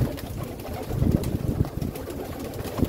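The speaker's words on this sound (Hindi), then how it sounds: "कबूतर कितनी खुशी से खाने आ रहे हैं, देख रहे हैं।" Pigeons gather to feed inside a breeding loft, giving low, soft cooing with fluttering and shuffling. The sound is steady and close, with no talk.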